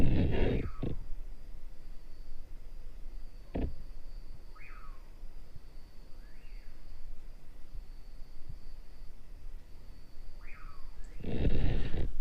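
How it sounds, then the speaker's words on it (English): Two birds calling, one with short rising chirps repeated a few times nearby and another answering faintly from a distance, over a quiet outdoor hiss with occasional brief thumps and rustles. "what you're hearing is one bird doing a mating call, and in the distance, there's a bird answering it"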